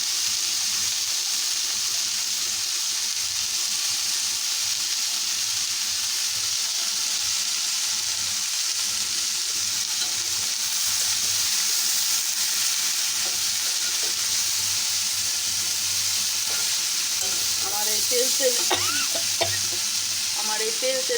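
Garlic fries in oil in a kadai while being stirred, a continuous close sizzle with scraping stirring strokes throughout that grows slightly busier toward the end.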